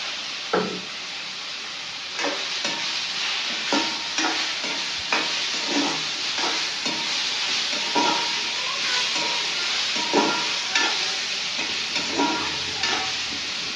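Tomatoes sizzle steadily in a hot pan, a constant frying hiss broken by periodic scraping and stirring knocks, close and alone without talk.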